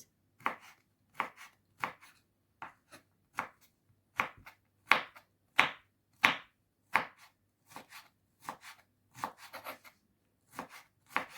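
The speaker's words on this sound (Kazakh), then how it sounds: "Осылай өте ұсақ қылып тураймыз" Knife finely chopping vegetables on a board, about two dozen crisp taps in quick uneven bursts, close and fairly quiet with no talk.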